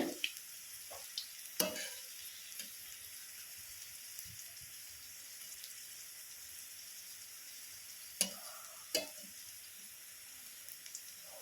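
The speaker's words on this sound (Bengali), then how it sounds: "আবার উল্টে পাল্টে এইভাবে আমি সব পকোড়াগুলো ভাজবো" Cabbage pakoras fry in a little oil with a soft, continuous sizzle. Occasional sharper clacks and scrapes come through as the pieces are turned, and no one speaks.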